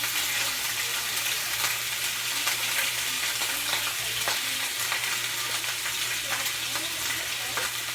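Two slices of turkey bacon fry in a pan, making a continuous close hissing sizzle with scattered pops and no talking.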